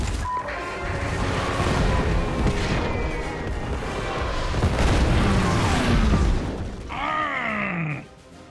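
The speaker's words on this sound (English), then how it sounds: "High Command has sent in bombers. They're entering our airspace." Bombs from an air strike in a video game land as a dense, rumbling barrage of deep booms that roll on for several seconds, then give way to a descending whistling tone near the end.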